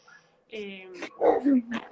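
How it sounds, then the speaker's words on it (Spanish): Several dogs bark, whimper and yip close by in a chaotic burst, with a person talking over them. "Perdón que tengo un caos de perros alrededor."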